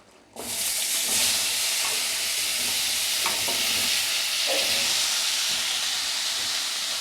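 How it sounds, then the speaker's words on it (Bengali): Pieces of raw green banana hit a hot pan and fry with a sudden loud, steady sizzle and hiss, broken by a few scraping stirs; no voices. "একটুখানি কড়াতে দিয়ে একটু নেড়ে নিলে"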